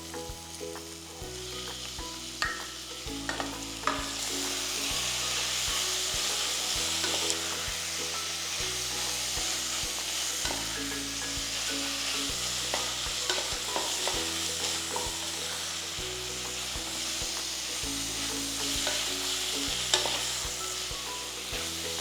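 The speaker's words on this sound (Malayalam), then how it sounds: "ഹൈ ഫ്ലെയിമിൽ തന്നെ ഒന്ന് സ്റ്റർ ഫ്രൈ ചെയ്യുക." Mutton stir-fried in a pan over a high flame, with a constant sizzle and repeated scraping strokes of a spoon or spatula in a steady rhythm, close and loud.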